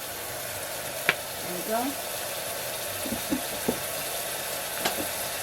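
Cooking oil sizzles in a pan, a steady hiss heard before onions and sweet pepper go in for a bitter melon and pink salmon stew, with brief clinks and a short spoken remark.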